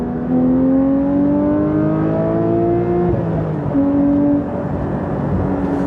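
A Porsche 992 GT3 Touring with a full Dundon titanium exhaust, heard from the cabin while driving, pulls hard with a rising engine note. It shifts with a brief drop in pitch, then climbs again, loud and steady throughout.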